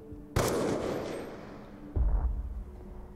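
Two loud, close gunshots ring out in the video game Call of Duty: Black Ops 2 during a headshot scene, each a sharp crack with a long booming, reverberant tail, about a second and a half apart.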